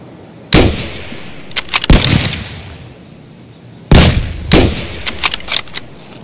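Sharp gunshots in a first-person shooter, fired while taking on a heavily armoured PMC enemy: two loud, close blasts a few seconds apart, each trailed by a scatter of quicker shots and echoing impacts, with no talk.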